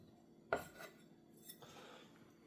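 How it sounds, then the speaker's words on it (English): A knife rough-chops green onion on a cutting board in a kitchen, giving a few faint, scattered taps with one sharper hit near the start. "I'm just rough chopping some green onion right now."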